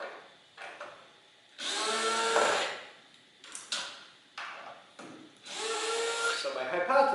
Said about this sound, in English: I want to take off just these bolts to start, and that'll probably remove the bottom off the case